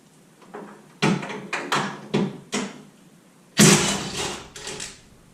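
A door on an Edsel car is worked off its hinges, giving a string of clunks, scrapes and metallic knocks in uneven bursts, then a louder grinding rattle near the end, close and without talk.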